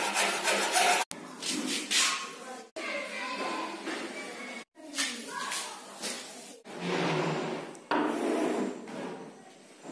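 A small piece of wooden plank is cut with a power tool, giving several loud, sustained bursts of rasping cutting noise separated by brief pauses.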